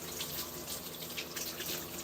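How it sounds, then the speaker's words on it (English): A kitchen tap runs steadily, splashing water into a sink as flour-covered hands are washed under it, with no pause in the flow. "Let me wash my hands full of flour."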